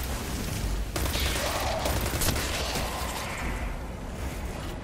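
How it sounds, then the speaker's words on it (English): An auto rifle fires at an enemy in Destiny 2, a steady stream of rapid shots with mechanical clatter and a sharp blast near the middle, loud at first and easing toward the end. "just watch how steady it gets when I'm shooting on an enemy"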